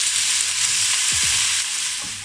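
Potatoes frying in a hot pan with browned garlic and ginger, a steady broad sizzle throughout with a couple of brief low scraping stirs near the middle.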